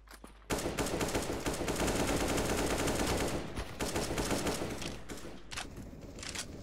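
Rapid, sustained automatic gunfire in CS:GO, dense and continuous for several seconds with brief gaps and bursts, loud and close with no speech.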